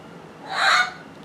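A single loud, nasal goose honk rises and fades within about half a second, heard close by in a kitchen with no voices at that moment.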